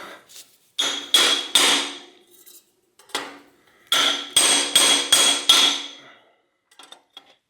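A hammer strikes a metal bar in sharp, ringing blows, driving a pin while overhauling a vintage Peugeot bicycle bottom bracket, a few separate hits then a quick cluster of about five, with short pauses between.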